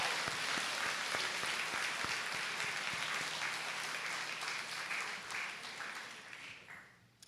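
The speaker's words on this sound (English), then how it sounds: "Let's clap up. Round of applause." Audience at a school 8th grade move-up ceremony gives a sustained round of applause, a dense crowd clapping that holds steady and then gradually fades away over several seconds.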